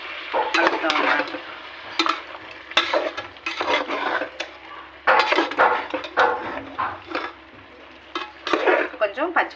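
Ginger, garlic and onion fry in a pan while a utensil stirs and scrapes them in steady bursts, with a soft sizzle underneath and a voice talking at times.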